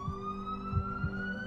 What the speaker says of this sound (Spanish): La ambulancia tardó un rato en llegar.